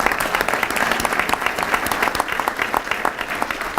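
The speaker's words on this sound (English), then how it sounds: "let me do a round of applause for Ryan Mallett" A banquet audience applauds Ryan Mallett at an awards dinner, a dense, steady wash of many hands clapping at close range with no break for the whole stretch.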